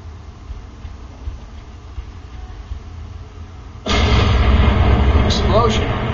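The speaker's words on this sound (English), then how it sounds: "Explosion. Better check it out." A sudden loud explosion in the Spider-Man 2 video game erupts and sustains into a rumbling roar after a stretch of lower background noise, with faint rising tones on top.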